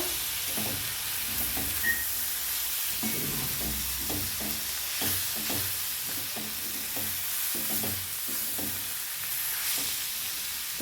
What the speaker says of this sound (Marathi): वर खाली आपण कोबी हलवून घेऊया